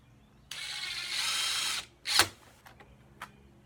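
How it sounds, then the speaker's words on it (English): A power drill drives 2-inch screws into a Muskoka chair, a close whirring run of over a second followed by a sharp high burst and a couple of brief trigger blips. "We're using our 2-inch screws here, and we can carry on."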